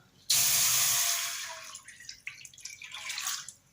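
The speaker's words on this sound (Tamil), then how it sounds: "ஒரு பெரிய டம்ளரில் ஒரு டம்ளர் அளவுக்கு நம்ம தண்ணி சேர்த்தாச்சு" Water splashes in with a sudden hissing pour into an iron pan, then tapers into scattered drips and trickles.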